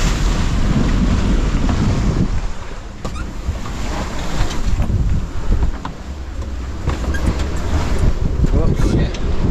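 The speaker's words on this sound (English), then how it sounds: "That's very gusty here." Strong, gusty wind roars across the microphone while a sailboat beats upwind, mixed with rushing water and wave noise and rising and falling in loud surges throughout.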